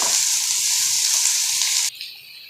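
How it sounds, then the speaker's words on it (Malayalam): Chopped garlic, green chili and onion sizzle loudly in a hot pan, a steady close frying hiss that cuts off abruptly near the end and leaves a softer crackle. "അതിലേക്ക് അരിഞ്ഞു വച്ചിരിക്കുന്ന വെളുത്തുള്ളി, പച്ചമുളക്, സവാള എല്ലാം കൂടെ ഇട്ടൊന്ന് വഴറ്റാം"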